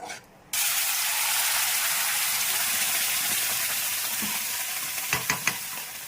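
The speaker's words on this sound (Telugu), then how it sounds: "ఇదంతా మనం ఇలాగా కలిపేసుకోవాలండి ఇట్లా కొద్దిగా బాగా మగ్గిపోవాలండి" A spoon stirs tomato, onion and cashew paste into paneer butter masala curry in a hot pan, giving a steady close sizzle with a few scraping clicks near the end, no voice over it.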